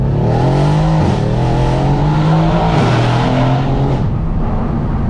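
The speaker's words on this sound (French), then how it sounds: "Là on est avec Clément, il nous fait faire un petit tour pour voir si tout va bien" A 510-horsepower Mercedes C63 AMG V8 revs hard and loud on a test drive, pitch climbing through the gears with brief shifts, steady roaring from inside or near the car.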